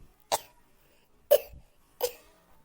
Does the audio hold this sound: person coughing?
yes